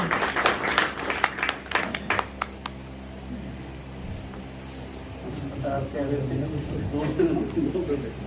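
Brief burst of audience applause at a Pakistani Independence Day literary gathering at a London community centre, a few seconds of clapping that fades into a hum of murmuring voices and room noise.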